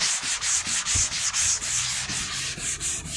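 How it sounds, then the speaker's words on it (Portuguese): Hand sanding of polyester body filler on an auto body part using 150-grit sandpaper on a rigid sanding block, a loud rhythmic rasping scrape of about a dozen back-and-forth strokes, close up. "o repasse de massa e o lixamento dessa peça com a lixa 150"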